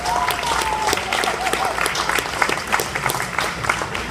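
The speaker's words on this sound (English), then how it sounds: "Y'all can please give yourself a big clap." Crowd applause at a boxing press conference: scattered, distinct hand claps rise over a low background murmur, uneven in rhythm and moderately close, with a brief whistle-like tone near the start.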